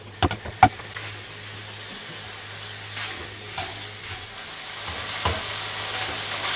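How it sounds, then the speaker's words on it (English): Minced beef sizzles in a pan for browning, with a few sharp scraping knocks early on as the meat is broken up, then a steady low fry and occasional stirring scrapes. "Fry your mince until it's browned all over. There's no more red or no more pink. You have to break it all up."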